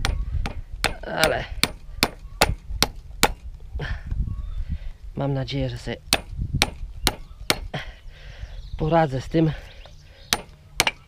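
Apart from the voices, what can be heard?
hammer striking to knock out a pin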